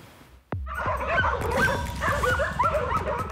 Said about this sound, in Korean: 절 입구에 있는 견보람 개들이 오토바이를 보고 짖으면